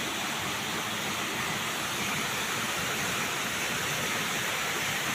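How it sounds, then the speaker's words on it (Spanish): Small waterfall flowing near caves, a steady, even rush of falling water that stays constant and fairly soft throughout, with no other sounds standing out. "Fíjense que ahí donde está esta pequeña cascada"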